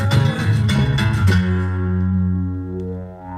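A short synth sample lifted from a record plays as a few punchy chord hits that fade into a sustained, ringing tone, heard alone.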